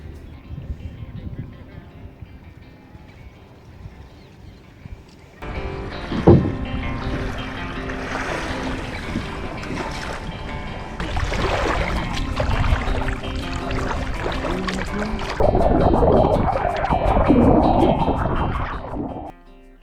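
A boat moves across Nal Sarovar lake, a bird sanctuary near Ahmedabad, its steady engine drone and water rush growing louder after a quieter start, with wind buffeting throughout.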